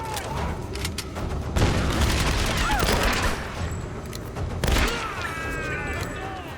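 Rifle gunfire in the Tomb Raider video game, loud bursts of rapid shots and booming impacts in two or three volleys over a busy background of game noise.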